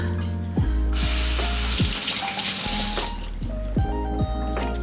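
Nutrient water pours onto a houseplant potted in LECA clay pebbles, a steady close splashing stream with louder bursts as the flow hits the pebbles, no voices over it.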